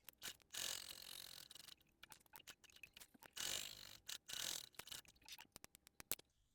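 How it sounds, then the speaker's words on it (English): A sewing machine top stitches down both sides of a fabric wristlet, close mechanical whirring in several bursts separated by short pauses, with clicks and ticks between runs and no talking. "So I'm just going to top stitch down both sides of this"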